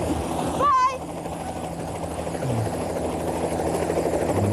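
A helicopter drones steadily in the background, with its rotor hum continuing throughout, broken briefly by a short whistling burst near the start.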